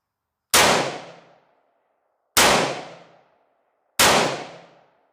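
Three loud gunshots spaced about two seconds apart, each a sharp bang with a ringing decay, as spent brass casings drop into a Tacti-Net brass catcher.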